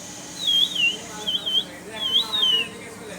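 A person imitates a myna bird with three short whistled call phrases, each one rising and falling, high and clear over a quiet room.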